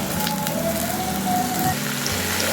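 Broad beans tipped into a pan of fried onions hiss and sizzle steadily and loudly up close, a dense crackling frying sound with no talk over it.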